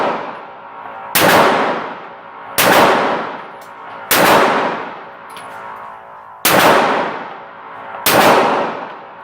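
Six sharp, loud gunshots from a bone-stock Glock 17 pistol, fired at a slow, even pace with about a second and a half between each crack and its decaying ring.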